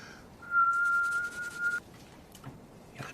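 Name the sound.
whistling imitating a sound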